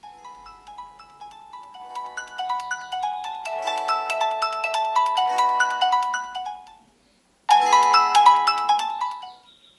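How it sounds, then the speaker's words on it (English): A Xiaomi Redmi Note 10 Pro ringtone plays a bright, repeating electronic melody at close range. It cuts out briefly near the end, then resumes alone. "you can use this slider to adjust the ringtone volume to what suits you"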